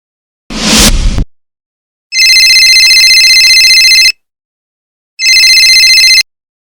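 A telephone ringing while a call is placed, with a brief whoosh first and then two loud, steady electronic ring bursts of about two seconds each, separated by a short silence.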